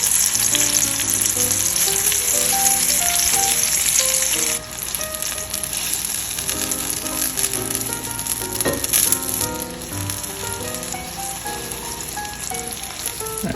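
Giant meatballs searing in a pan, a loud, dense, continuous sizzle with occasional shifts as they are gently moved and rotated.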